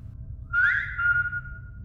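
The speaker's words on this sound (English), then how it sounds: "That's when I heard the whistling." A soft, thin whistled tone rises and then holds steady for about a second over a low background rumble.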